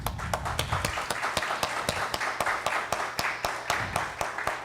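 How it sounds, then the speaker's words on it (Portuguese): Sparse audience clapping at a retail business panel event for a local business association anniversary, individual claps clearly separated in a loose rhythm, fairly quiet and close, with no talking over it. "Uma salva de palmas."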